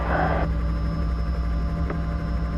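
A flight's engine held at full open throttle, a loud, steady roar with constant hum and no break, close and unchanging throughout.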